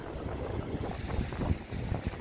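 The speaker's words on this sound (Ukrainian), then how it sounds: "Боже, тут хвилі. Шторм посилюється, мені здається." Storm wind and crashing sea waves on the Odesa shore, a steady broadband roar with gusty buffeting on the microphone, loud and continuous.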